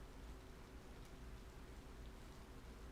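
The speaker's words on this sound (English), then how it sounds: "It's raining though, so that's nice." Rain falls steadily in a video game, a dense, even hiss of drops that holds at a constant level for the whole stretch, with no voices over it.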